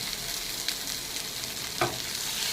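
Onion and tomato fry in a pan with a steady, close sizzle, and one brief louder scrape of stirring near the end.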